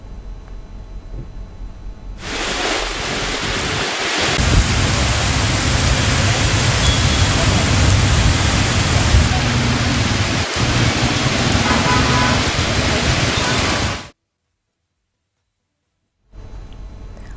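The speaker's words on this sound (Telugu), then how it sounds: "మొత్తానికి హైదరాబాద్ లో వర్షం మొదలైంది." Heavy rain pours down in Hyderabad as a loud, dense, steady hiss that starts abruptly, runs unbroken, then cuts to brief silence before returning more faintly.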